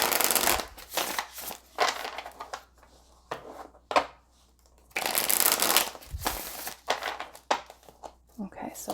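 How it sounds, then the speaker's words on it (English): Tarot cards are shuffled in several quick riffling bursts, separated by short pauses and soft handling sounds, close by. "We'll give these ones a quick shuffle."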